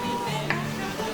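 Fresh tomatoes cooking down into a quick compote in a pan, soft continuous sizzle with a faint spoon tap midway, close and fairly quiet.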